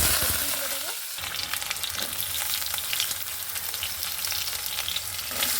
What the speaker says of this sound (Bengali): তারপরে একটা শুকনো লঙ্কাকে ফাটিয়ে দিয়ে দেবো, আর তারপর দেবো এখানে কালো জিরে